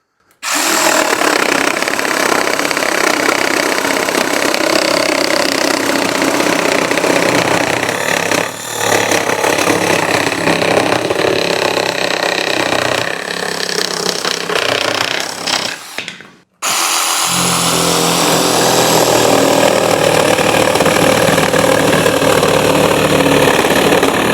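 A reciprocating saw cuts through doubled 2x4 lumber steadily at close range, loud and continuous, then a brief pause before cutting resumes with a rougher, buzzing tone.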